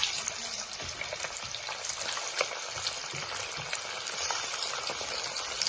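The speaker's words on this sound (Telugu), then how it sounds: "ఆయిల్ వేడెక్కిందండి ఈ ఆయిల్లో ఇప్పుడు ఈ ముక్కలు వేసేసుకుందాం" Pieces of fish fry in hot oil for a fish pickle, a dense, continuous close sizzle and bubbling hiss with no voices, holding at an even loudness across the whole stretch.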